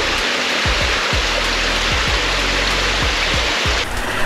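Water flowing steadily past a house in the Portuguese countryside, a loud continuous rushing like a stream or small waterfall, close by with no voices.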